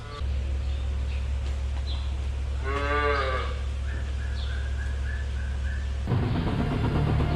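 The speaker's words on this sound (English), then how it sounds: "Bringing the special needs cows into the parlor now." A dairy cow gives one long, loud moo while being brought into the milking parlor of a USA dairy farm, over a steady machinery hum, with faint bird chirps nearby.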